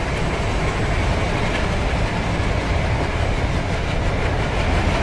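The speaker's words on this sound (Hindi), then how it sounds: "एंड साउंड सुनो गाइस, जो लोकोमोटिव का साउंड है गाइस वो मुझे मतलब एकदम पीछे तक आ रहा है यार" Locomotive running in the Trainz Simulator game on an Indian Railways route, a steady, loud rolling rumble with faint clickety-clack throughout and no talk.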